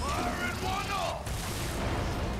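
Focus shot ability fired in Final Fantasy VII Remake gameplay, a heavy booming blast with mechanical gunfire-like crackle over dense game sound effects, loud throughout.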